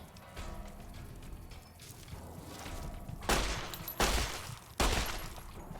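Pistol shots in Fallout: New Vegas, three sharp loud cracks in the second half over a murky background of game ambience.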